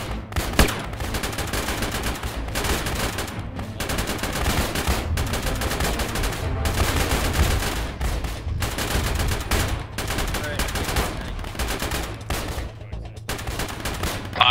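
Sustained gunfire in the ARMA video game during a desperate defence, with rapid machine-gun bursts and overlapping shots from several weapons, close and loud, in a near-continuous barrage with brief gaps.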